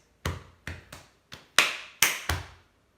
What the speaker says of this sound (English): the very, very final bit is just another tap on our chest at the end.